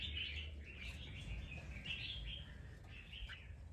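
A red-whiskered bulbul (chào mào), a wild-trapped bird, sings clear bright chirping phrases, several short bursts in quick succession, close and distinct over faint background noise.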